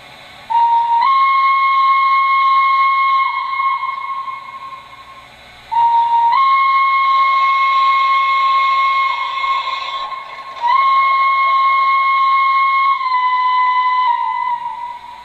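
An MTH model of the EST Class 241A steam locomotive sounds its quilling whistle in three long, loud blasts, each sliding slightly in pitch before settling, with short pauses between.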